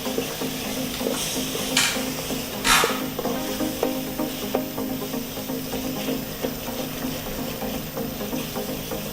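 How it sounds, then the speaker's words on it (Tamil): Ginger garlic paste for a village-style chicken gravy sautéed in a pan, with a steady close sizzle and soft rhythmic scraping of a stirring spoon throughout, plus a couple of brief louder hisses. "இஞ்சி பூண்டு பச்சை வாசனை போகிற அளவுக்கு நல்லா வதக்கிடுங்க"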